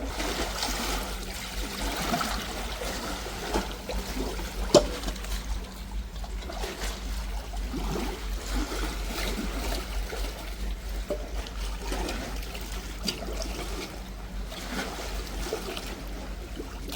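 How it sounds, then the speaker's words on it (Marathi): Grouper and eel are rinsed in salt water on an island shore, with soft trickling and splashing under a quiet outdoor background and faint bird calls. "पहिला तर खारे पाण्याने धुवून घेऊ सगळ्या"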